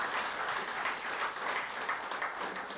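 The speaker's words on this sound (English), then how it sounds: "I think you all need a big round of applause for that" Audience applause at a Kamal Motors company event, a broad, steady wash of many hands clapping together that holds at an even level for the whole stretch with no speech over it.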